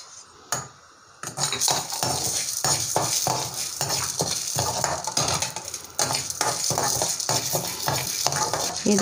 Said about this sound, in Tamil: இப்போ வந்து கடலைப்பருப்பு வறுக்க போகிறேன்